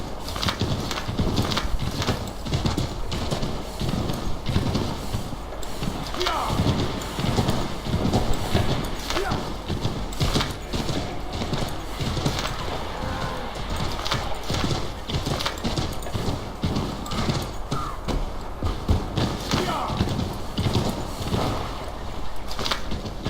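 Hooves clip-clop at a steady galloping rhythm as a horse runs in Assassin's Creed III Remastered, continuous and fairly loud, with a few scattered game sounds mixed in.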